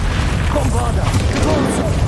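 A Confringo spell explodes in the Hogwarts Legacy video game, a loud, sustained rumbling blast with crackling debris close by, while a voice speaks over it.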